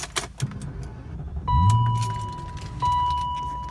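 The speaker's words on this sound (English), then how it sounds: "Let's start it up." Keys jingle inside a 1999 BMW 540iA before the starter cranks and the engine catches with a rising rumble that settles to a steady idle, while an electronic warning chime tone beeps twice.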